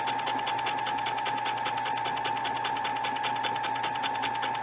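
Sewing machine stitching a one-step automatic buttonhole, running at steady speed with a fast, even needle rhythm and a constant motor hum, close and continuous with no talk.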